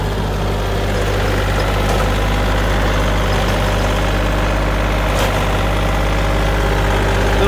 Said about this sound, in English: we got a John Deere with a good rototiller